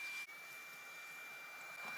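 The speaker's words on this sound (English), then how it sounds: "The E1 cordless vacuum cleaner is so lightweight and easy to use." An E1 cordless vacuum cleaner runs at a steady, faint, hissing whine for about two seconds, with one brief dip near the start and no speech over it.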